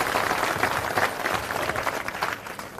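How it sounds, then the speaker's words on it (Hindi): Applause from an audience at a political rally in Guthni, a dense sustained clapping texture with no clear gaps, steady and fairly loud throughout. "एक बार हाथ खोलिए, ऊपर हाथ करके ताली बजा दीजिए"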